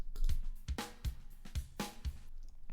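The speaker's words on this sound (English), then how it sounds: "the drum loop sounds like this" A simple drum loop with a steady beat of punchy kicks and crisp snare hits, repeating a few times at moderate volume.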